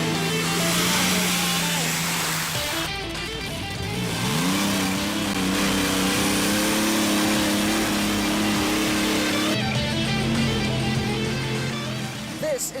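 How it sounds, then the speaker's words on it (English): A tractor-pulling competition engine roars loudly and revs up, holding a high, strained drone with shifting pitch before easing back, all close and dominant. "This is the amazing sport of tractor pulling."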